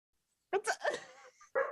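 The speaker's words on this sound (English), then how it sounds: "Sorry about the dogs." Dogs bark and yip nearby in a few sharp, quick bursts, with a short gap before a final bark, loud against otherwise silent surroundings.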